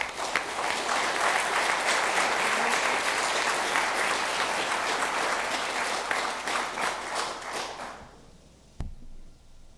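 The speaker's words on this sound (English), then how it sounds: "I want to applaud him for all his service at this community" Sustained applause from an audience at a city council special meeting fills the room for about eight seconds, dense and loud, then tapers off into a quiet hall with a single sharp knock near the end.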